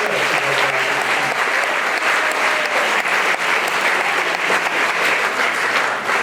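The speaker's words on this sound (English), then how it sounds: "Let's give a nice round of applause to the success." Sustained, loud applause from an audience at a fall athletics awards ceremony, steady clapping throughout with no pauses.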